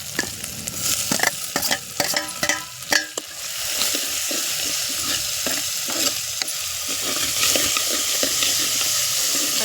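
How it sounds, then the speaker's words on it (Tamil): Tomatoes sauté in a pan with onion, green chili and curry leaves, giving a steady loud sizzle with a cluster of spoon clinks and stirs early on, then continuous frying hiss. "தக்காளி நல்லா வதங்கட்டும்"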